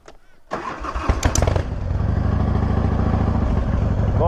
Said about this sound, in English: Bike starts, that's always a good sign.